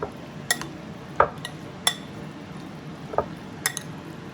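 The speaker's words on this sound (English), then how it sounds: "you really want to stir it a lot because you want to coat that avocado with the lime" A spoon stirring tropical salsa of avocado and lime in a bowl, giving a few sharp, spaced clinks and knocks against the dish over a quiet, faintly wet background.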